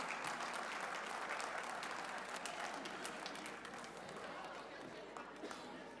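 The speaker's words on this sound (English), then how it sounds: "A big round of applause for Anshu Gupta." Steady applause from a large audience at an alumni meet fills the hall, dense clapping holding at an even level throughout.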